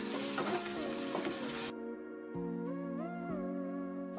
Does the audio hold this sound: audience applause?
no